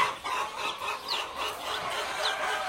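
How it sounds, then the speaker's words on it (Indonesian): Many newly hatched village chicks, just taken from an incubator, peep constantly in a dense, overlapping chorus of high chirps, close and fairly loud. "Kita lagi ambil anak ayam dari mesin."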